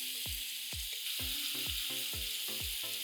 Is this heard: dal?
yes